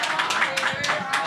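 Brief scattered clapping from an audience at a media interview event, a few distinct claps heard over ongoing talk.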